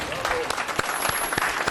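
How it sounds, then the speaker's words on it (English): Audience applause at a zoning hearing, a short burst of scattered clapping from the crowd in an indoor hall, with a voice talking over it. "please keep your applause down"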